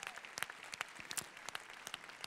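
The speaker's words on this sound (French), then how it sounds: "l'épouse de Simon qui sera ravie aussi de recueillir vos applaudissements pour Luna, Léo" Scattered, sparse hand claps from a small audience at an indoor family gathering, quiet and a little distant, with uneven gaps between claps and no talking over them.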